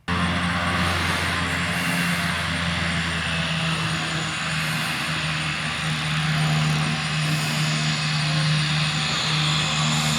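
A Cessna 208 Caravan sits on a grass strip, its turboprop engine droning loud and close in a constant, unbroken roar with a steady tonal hum underneath.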